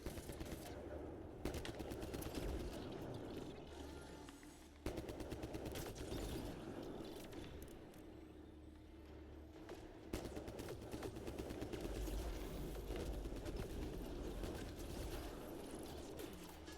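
Rapid bursts of automated turret fire from the video game Mass Effect Andromeda crackle in dense, repeated volleys under layered game ambience and effects, fairly loud and continuous with brief breaks.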